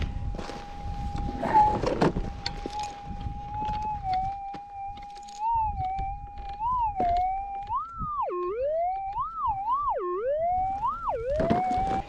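Steady electronic metal detector tone over a buried gold target that holds one pitch, then wobbles and bends up and down in repeated warbles, loud and close, with faint rustling underneath.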